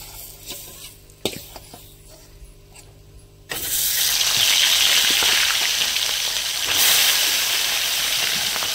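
Fish head frying in oil, first a few quiet clicks and clatter, then a loud, dense sizzle that bursts in suddenly and continues steadily to the end.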